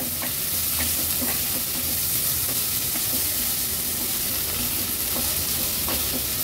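Chopped onion sautés in oil on a gas stove, a steady bright sizzle and hiss with occasional scraping stirs and light taps from the utensil in the pan, close up and without talk.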